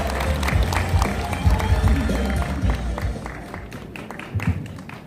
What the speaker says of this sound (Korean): 여러분 역시 큰 박수 부탁드립니다